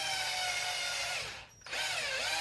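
A power drill boring through the A-arm of a Traxxas Sledge RC car, a loud high-pitched whine that dips briefly as the motor slows and then spins back up, close and with no talk.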